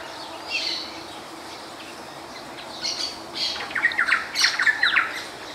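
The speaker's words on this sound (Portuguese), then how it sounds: "Ah, pássaro preto." A chopi blackbird gives a few short calls, then a burst of bright, squawky chirps and whistles close by in Santa Elvira, Mato Grosso, Brazil, with no talking.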